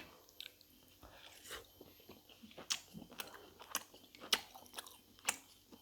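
Someone bites into and chews a fried wheat-flour puri near the mic, with repeated crisp crunches and wet mouth sounds in an uneven rhythm, quiet overall and without speech.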